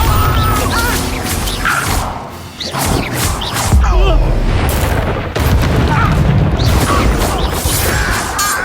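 Bombarda spell blasts in Hogwarts Legacy combat, loud booming explosions and crashes layered with whooshing magic and thuds in a dense, continuous battle mix, with a voice shouting spell names over it.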